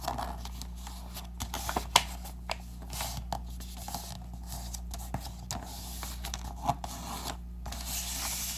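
Origami paper being folded along a crease to make a small shell gift box: faint, close rustles and crinkles with small creasing ticks, quiet and intermittent.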